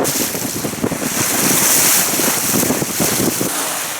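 Steady wind rushes and buffets past a sailing yacht out on open water in Scandinavia, a loud continuous roar with water wash beneath, and no voices.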